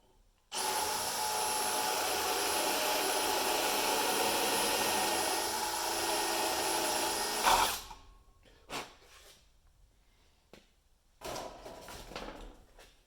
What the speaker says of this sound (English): then we're just going to drill.